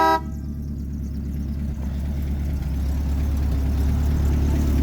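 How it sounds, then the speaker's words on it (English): Horn of a 1950 Buick Super honking in one long, steady blast that lasts nearly five seconds over a low engine rumble, close and loud. "You gotta love the horns on these."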